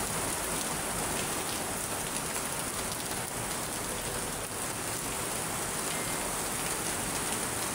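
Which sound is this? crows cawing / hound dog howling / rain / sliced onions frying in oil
rain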